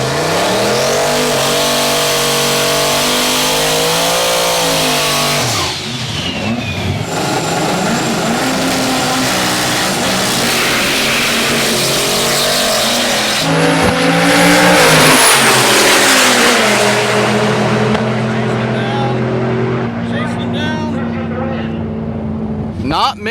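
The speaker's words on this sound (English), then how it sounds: "Here comes Brent in the all-wheel drive Civic going up against the Chevelle" All-wheel-drive Honda Civic and Chevrolet Chevelle drag racing, with loud engines revving and accelerating hard down the strip, roaring close and steady throughout, while an announcer talks over the noise.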